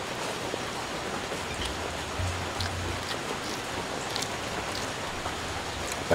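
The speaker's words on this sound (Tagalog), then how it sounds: "Tag-ulan na, wala nang tigil ang ulan." Heavy rain falls steadily in a dense, even hiss with scattered drop patters, continuous and fairly close throughout.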